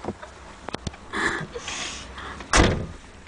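A car door slams once, loud and close, after a few sharp clicks and a rustling shuffle inside the car.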